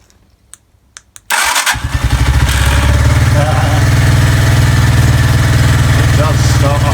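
A Senke X6 motorcycle, just fitted with a new starter solenoid switch, cranks briefly after a few clicks, then catches and settles into a loud, steady chugging idle close to the microphone.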